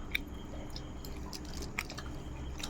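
Close, quiet chewing of paratha with potato curry, soft wet mouth sounds and occasional small bites in a steady rhythm over faint room hiss, with no talking.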